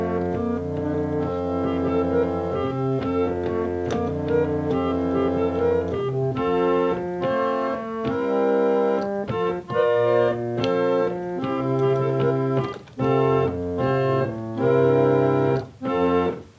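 An organ passage played without organ technique, built from sustained chords and melody notes that run continuously, with brief drops in level where notes are released between changes.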